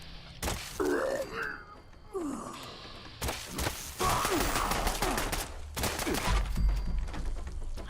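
Enemy gunfire in Fallout 76, a series of sharp, loud shots and bursts spread across the moment, with groaning and sighing vocal sounds in between.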